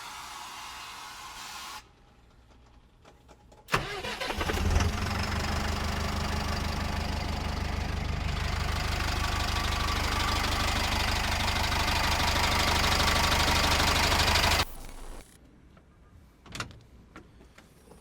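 The rear-mounted engine of a Karsan ATAK city bus with air suspension runs as a steady, loud, close drone for about eleven seconds, then cuts off sharply, with quieter rustling before and after.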